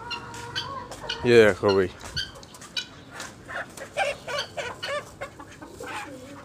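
A black hen clucks close by, a loud burst early on and then a run of short rhythmic clucks, with someone talking over it at times.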